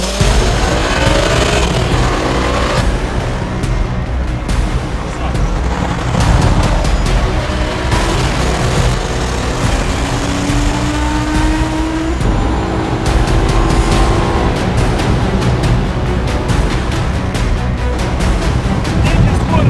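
A BMW M5 E60 launches hard from a standstill in a street drag against an all-wheel-drive car. Loud engine roar, rising gear pulls and some tire noise run continuously for about twenty seconds.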